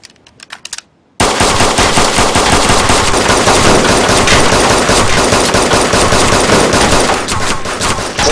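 SKS rifle fire in the DayZ video game, a sustained burst of rapid, loud, dense shots running for about seven seconds after a brief quieter lead-in with a few faint clicks.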